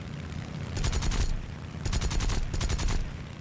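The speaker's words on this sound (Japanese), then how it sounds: "ゼロ戦本当に少ないから、指切りで撃っていかないといけないんだよね。" Short bursts of machine-gun fire from a Zero fighter in the air-combat game War Thunder: three rapid, loud volleys of gunfire separated by brief pauses, set over a steady engine drone.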